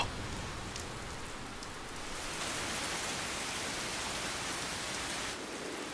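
Heavy rain falls outdoors on rocky ground, a steady, dense hiss that holds unbroken for several seconds with no voices.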